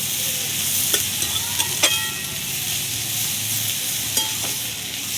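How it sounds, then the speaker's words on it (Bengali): Onion greens fry in hot oil with already browned onions, giving a steady close sizzle broken by a few sharp clinks of a spatula against the pan. "কলিটাকেও একটু লাল করে নেব, তেলের সঙ্গে ভাজবো।"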